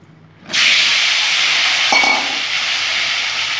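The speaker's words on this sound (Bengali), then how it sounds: "আলু আর পেঁপেগুলো আমি সুন্দর করে ভেজে নেবো একটু।" Potato and papaya pieces hit hot oil with a sudden loud sizzle that settles into a steady, close, continuous frying hiss, with a brief clatter of stirring midway.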